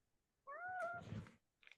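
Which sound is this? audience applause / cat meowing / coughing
cat meowing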